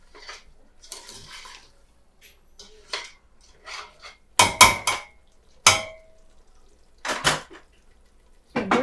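Clattering metal knocks as a lid goes onto a pot of Nigerian egusi soup, several sharp clanks and taps in quick irregular bursts with quiet gaps between, close and fairly loud.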